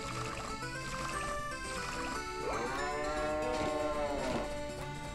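A cow moos in the farming game Story of Seasons: Trio of Towns during milking, one rising, drawn-out call over steady game music, fairly clear and upfront.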